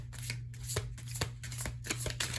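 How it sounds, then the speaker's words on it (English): Tarot cards being shuffled by hand, a soft papery riffle repeated in several short bursts over a low steady hum, close and quiet, with no voices. "Give it a good and proper shuffle."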